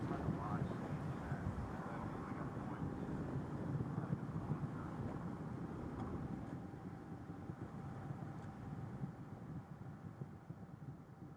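Space Shuttle Atlantis on its final launch climbing away, a steady distant broadband roar of rocket engines rumbling continuously with a wind-buffeted edge and no voices.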